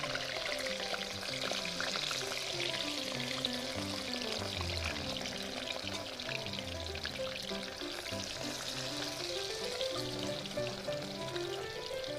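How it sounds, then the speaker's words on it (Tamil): Mushrooms fry in hot oil for a mushroom biryani, giving a steady, continuous sizzle with faint bubbling and no talk, holding an even level throughout. "பொரிச்சு காளான் எண்ணெயில் போட்டு பொரிச்சிக்கலாம்."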